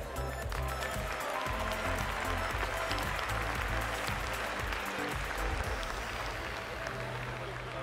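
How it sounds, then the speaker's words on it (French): Audience applause at a salon event, a dense, steady wash of clapping from a crowd that holds at an even, fairly loud level for the whole stretch without fading. "des applaudissements s'il vous plaît."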